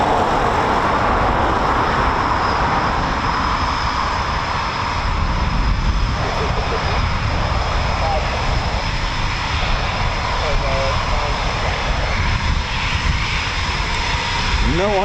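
A Eurofighter Typhoon FGR4 jet flies near an RAF training and quick-reaction station, making a loud, sustained engine roar with shifting tones while people talk intermittently underneath.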